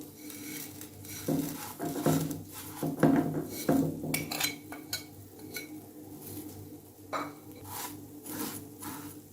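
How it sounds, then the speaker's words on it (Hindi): Vermicelli (sevaiyan) browning in a pan for Eid sheer khurma, with a spoon clinking and scraping against the metal in irregular bursts of stirring, close and moderately loud, with no talk. "अब सेम पैन में ये मैं सेवइयाँ जो है उसको अब ब्राउन करूँगी"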